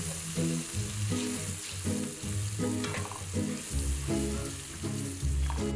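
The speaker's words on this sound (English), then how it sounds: "I'll add the sliced onions and the hot pepper, and I'll cook it until the edges become golden brown." Sliced onions and hot pepper frying with curry powder in a pot, giving a steady close sizzle with occasional stirring; faint music plays underneath.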